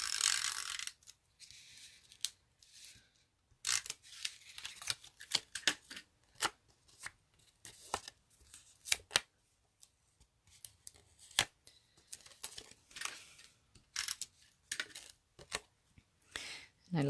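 Adhesive tape is pulled and pressed onto layered cardstock for a handmade stamped card, giving irregular crackling clicks and short tearing bursts up close at a moderate level, with brief pauses between them.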